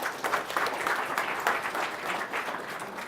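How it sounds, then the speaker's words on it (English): An audience at a real estate investing seminar claps in a dense, even burst of applause, fairly close and sustained throughout the short stretch. "Round of applause for our premium service providers"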